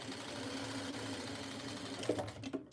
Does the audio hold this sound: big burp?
no